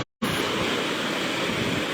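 High surf rolling onto the beach at Galesong, Takalar, a steady broadband roar of crashing waves that fills the whole clip after a brief silent gap at the start, close and loud with no voices.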